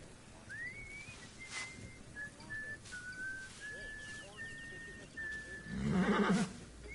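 A horse whinnies in the video game Assassin's Creed: Origins, a long, rising and wavering call over a steady background bed, followed by a brief louder burst of noise near the end.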